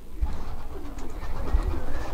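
Racing pigeons coo softly in low, throaty murmurs, close by, with a few low thumps and light background noise.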